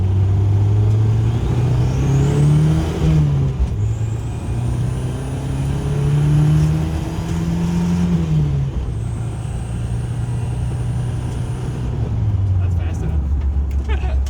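An old abandoned Mercury Capri turbo engine drones loudly and steadily, its pitch rising and falling through several revs over a continuous rumble, with people talking over it.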